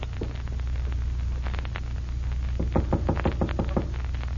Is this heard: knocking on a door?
yes